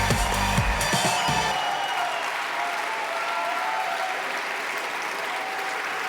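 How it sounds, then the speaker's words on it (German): Thunderous applause and cheering from a church congregation standing to welcome a guest speaker, a dense, sustained roar of clapping with some low thumps at the start, holding steady throughout. "lasst uns den Guest Speaker begrüßen mit einem Standing Ovation, großartigen Applaus"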